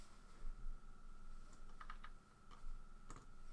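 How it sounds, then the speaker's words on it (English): Soft keystrokes on a computer keyboard come in scattered clusters, quiet and sparse under a steady background hum. "Oh, fucking Bart's typing"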